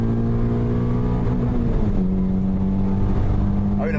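A Peugeot 306 S16 engine pulling hard through the gears from inside the car, a loud steady drone that dips briefly at a shift around midway and then climbs again, with no talk.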